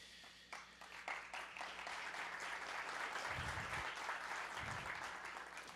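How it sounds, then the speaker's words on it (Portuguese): Audience applause fills a Brazilian engineering forum hall as a panel takes the stage, steady dense clapping throughout with a few louder low thumps near the end. "peço uma calorosa salva de palmas para um painel de titãs da engenharia brasileira"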